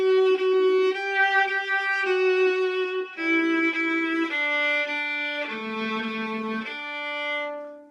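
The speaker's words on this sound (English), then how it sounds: "the viola part might sound something like this." A lower bowed string line playing sustained harmony notes, some with double stops, steady and warm, heard solo without any talking.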